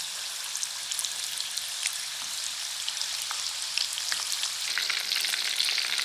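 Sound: hollowed bottle gourd pieces frying in oil

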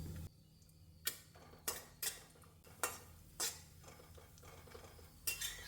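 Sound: frying cashews and almonds in ghee

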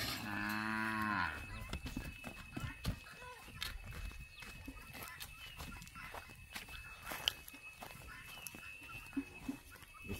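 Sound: cows on a farm in the evening

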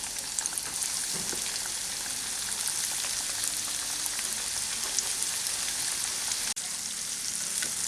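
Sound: chicken frying in hot refined oil in a wok

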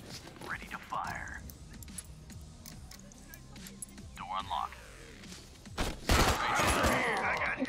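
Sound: gunfire in video game Door Kicker

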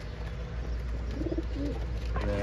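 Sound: pigeon cooing

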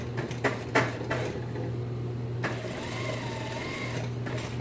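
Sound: sewing machine stitching a front pocket on elastic-waist pants

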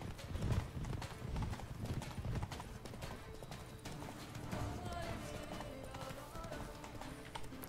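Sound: horse hooves while riding in The Witcher 3 video game

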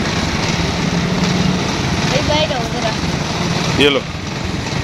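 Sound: motorcycle engine running

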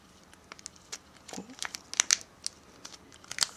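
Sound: handling cellophane tape

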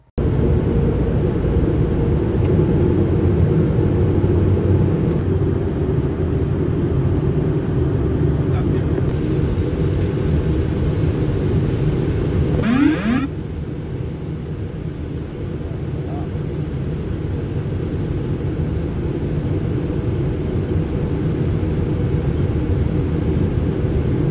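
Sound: airplane landing at Riyadh airport

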